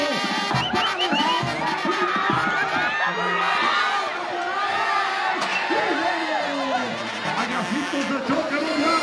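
A lively crowd cheers and shouts, with children's voices and whoops rising over constant babble, close and energetic throughout.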